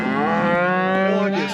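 A cow in a Kansas field lets out one long, loud, close moo that holds steady before tapering off.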